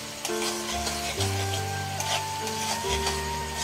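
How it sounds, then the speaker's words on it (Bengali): Garlic fries lightly in a pan for chicken kosha, a steady close sizzle with stirring scrapes running throughout, alongside a faint sustained tonal hum. "রসুনটা কিন্তু খুব বেশি করে ভাজতে হবে না, হালকা ভাজলেই হবে।"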